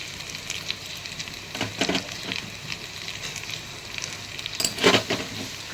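Spiced potatoes fry in oil with chili powder, a soft continuous sizzle broken by several bursts of scraping and tossing as they are stirred in the pan, close and quiet.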